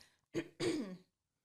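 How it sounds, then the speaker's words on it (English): Two short coughs or throat-clears in quick succession, close and fairly quiet, with a brief gap between them and silence after. "We both coughed at the same time."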